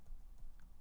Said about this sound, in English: and I type enter, and there it is